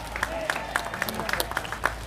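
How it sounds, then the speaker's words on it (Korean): A church congregation at a prayer rally claps for police officers, scattered individual claps sharply audible over a quiet hall, fairly faint and brief, with a voice speaking over it. "우리 여기 경찰분들한테 박수 한번 쳐드리세요"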